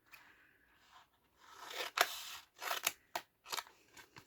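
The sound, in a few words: scissors cutting washi tape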